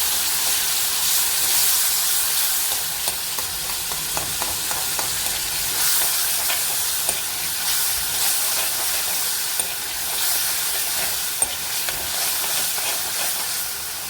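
Tomatoes sizzle and fry on high heat as they cook down in a pan, a steady close hiss of bubbling oil with faint crackles running unbroken throughout.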